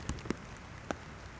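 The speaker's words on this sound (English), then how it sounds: "the water drops from the rain" Rain falls on the water's surface during snakehead fishing, a soft steady patter with a few sharper drop impacts standing out, with no voices.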